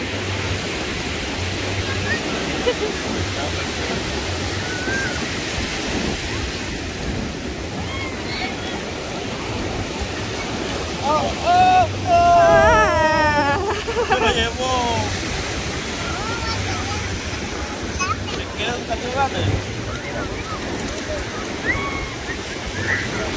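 Sea waves wash onto the shore in a steady broadband roar, with people chatting and calling out nearby over the surf.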